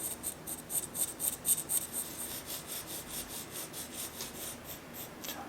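A pencil scratches and rubs steadily across paper while filling in the tone of wooden pillars in a landscape drawing of a traditional tiled-roof house, making soft rhythmic strokes, close and quiet, with no voices.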